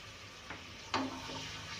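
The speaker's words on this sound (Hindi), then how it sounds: "डालने मैंने लहसुन अदरक को भून लिया है, और अब ये गोश्त इसमें जाएगा।" Garlic ginger paste frying in hot ghee in a pot gives a low, steady sizzle, quiet and close, broken by a couple of brief stirring knocks.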